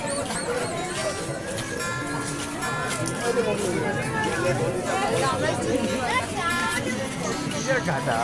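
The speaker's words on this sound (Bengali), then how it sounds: "প্রচুর ভিড় এখনো প্রচুর ভিড় এখানে" Dense crowd chatter fills the Gurap Kali Puja fair beside the railway line, a steady babble of many voices at close range with a person talking near the front.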